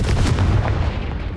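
Fiery Confringo spell blasts from Hogwarts Legacy, heard as a dense, booming burst of low rumble with crackling texture that fills the short moment and fades slightly at the end.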